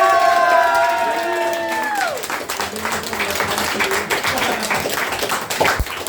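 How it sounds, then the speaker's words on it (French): Loud crowd applause and cheering fill a hall at a Beyblade tournament, steady clapping rolling on after a brief tonal sound fades at the start. "Un tonnerre d'applaudissements s'il vous plaît."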